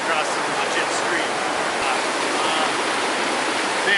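High, fast river in the Adirondack backcountry rushing with a steady, dense roar of whitewater, close and continuous with no break.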